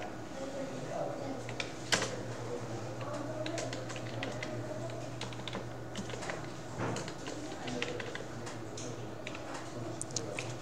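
Steady, fast typing on a computer keyboard while text is entered into a Word document, with continuous close key clicks and a few louder strokes over a low background hum.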